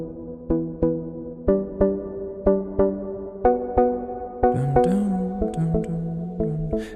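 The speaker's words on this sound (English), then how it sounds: "Another great thing is this diva plug here he is using in his track." A synth part from the Diva plugin follows a chord progression in E Dorian, with sustained chords and melodic notes struck in a steady rhythm and later brighter accents, played alone with no talk.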